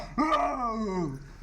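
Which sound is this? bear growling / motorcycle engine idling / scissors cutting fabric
bear growling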